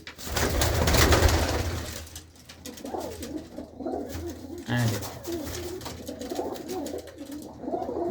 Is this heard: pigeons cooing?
yes